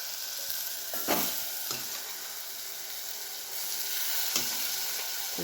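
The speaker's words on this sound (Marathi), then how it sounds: "आता ही भाजी त्याच्यात टाकून द्यायची." Vegetables tipped into hot oil with masala cooked until the oil separates, sizzling loudly and steadily in the pan, with a few sharp crackles and stirring clatters, no voices.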